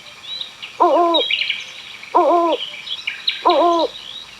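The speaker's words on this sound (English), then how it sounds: "It's an owl." An owl hoots three times, each a short wavering call, evenly spaced, with faint birdsong behind.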